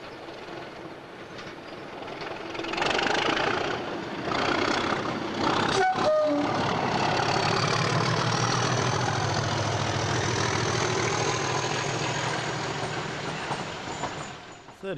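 A British Rail Class 37 diesel locomotive rumbles loudly with a heavy engine drone and rail clatter, building up and staying strong, with a few sharp clanks in the middle and speech faintly underneath.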